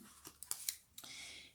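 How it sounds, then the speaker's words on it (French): Scissors snipping through origami paper in a few quick, crisp cuts, close and fairly quiet, with a short rustle of paper at the end. "Vous prenez vos ciseaux."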